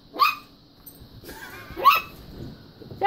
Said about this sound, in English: No, it's Sassy barking.